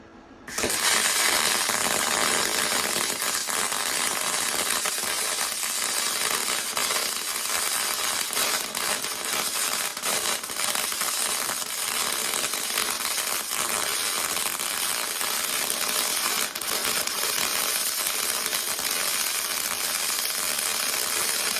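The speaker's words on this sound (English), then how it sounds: "I'm gonna probably weld to the middle, and then we'll see what it looks like." Aluminum being welded with an Arccaptain spool gun welder, a continuous loud crackling hiss that starts abruptly and runs unbroken for about twenty seconds, close and without talk.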